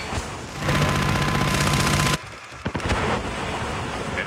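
Sentry gun fire in a video game comes as a dense, rapid automatic burst for about two seconds, then cuts off, followed by a couple of sharper impacts and lingering noise.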